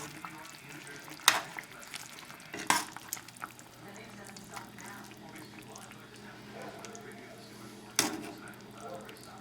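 A braised cornish hen sizzles steadily in a pan while it is turned, with a few sharp clanks of a utensil against the pan and voices talking over the frying.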